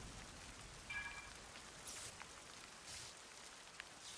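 Rain falls in the video game Zelda: Tears of the Kingdom, a soft, steady hiss of drops pattering on surfaces, quiet and continuous with no voices.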